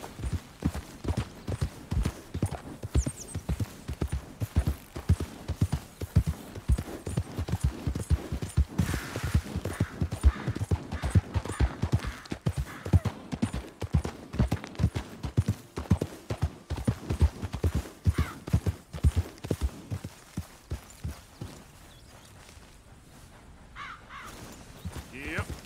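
Horse hooves gallop in the Red Dead Redemption 2 video game, a fast, steady clip-clop rhythm running loud and close for most of the stretch, with brief spoken remarks over it and the hoofbeats thinning out near the end.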